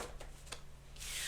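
Tarot cards are shuffled, giving a few soft riffling rubs early and then a louder, sustained papery ruffle toward the end, close and quiet with no voices.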